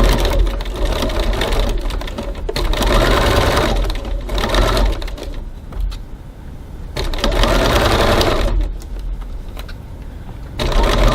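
A sewing machine sews a piped seam at a 2.4 stitch length with a 1 cm seam allowance, giving a loud, close, rapid mechanical whir that runs in several long bursts with short pauses between them.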